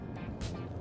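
The 1.6-litre four-cylinder engine of a DS 9 Hybrid 225 while driving at about 110 km/h: a low, quiet drone heard from inside the cabin, with a soft rushing swell partway through.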